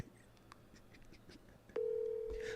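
A telephone call being placed: faint tone clicks give way to a loud, steady ringback or dial tone that holds near and alone for the last second, with no talking.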